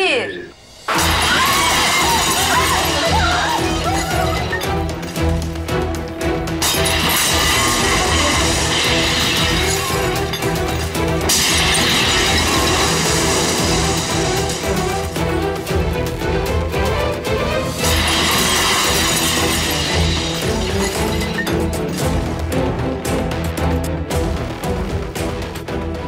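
A glass window shatters with a loud crash, and the breaking noise carries on across a long, dense stretch, mixed with shouting voices and dramatic music.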